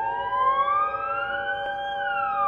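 A ceremonial siren sounds for a two-minute silence honouring Atatürk, a steady loud wail with tones slowly rising, heard alone and continuous.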